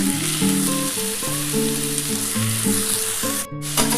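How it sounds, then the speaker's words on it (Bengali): Green beans fry in ghee in a wok, giving a steady, even sizzle. Background music with a clear melody plays throughout, and there is a brief dropout near the end. "আমি এটা ঘিটার সাথে একটু ভেজে নিই"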